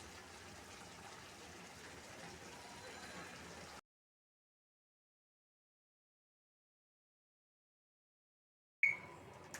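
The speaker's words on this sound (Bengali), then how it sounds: "কষানো শেষ, এবার ঝোল দিয়ে দিব।" Water pours into a pan of cauliflower curry as a soft, steady gushing hiss for about four seconds. Silence follows, then a short burst of noise at the end.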